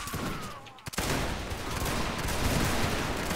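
A rolling musket volley crackles out in a Napoleonic line battle on Spring Fields in Mount & Blade Napoleonic Wars, a dense burst of overlapping shots that follows a short lull and stays loud for the rest of the clip.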